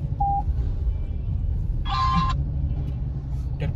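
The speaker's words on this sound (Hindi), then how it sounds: "भाई बहुत ज्यादा ट्रैफिक है इधर" Heavy traffic in Kosi's main market rumbles steadily up close. A short high beep sounds early, and a brief horn-like blare cuts in midway.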